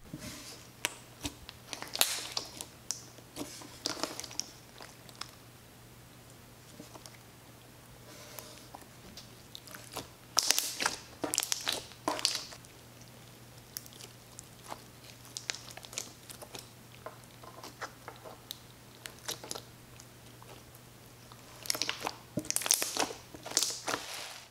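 Popping jelly cube slime being squished and stretched close up, a run of soft crackly pops and crinkly squelches in irregular bursts, louder clusters coming and going with quiet gaps between, no talking.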